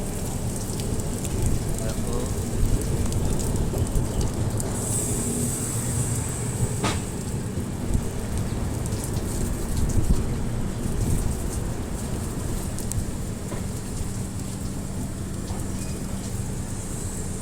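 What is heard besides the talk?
heavy rain and thunder at a train station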